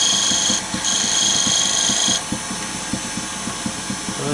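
A lathe spins a wooden chess queen as a tool shapes its crown and head, a motor whining under a high steady tone that stops partway, then a rhythmic series of soft regular knocks from the rotating piece.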